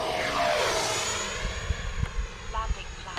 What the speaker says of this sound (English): the Avanti design is just an inherently stable plane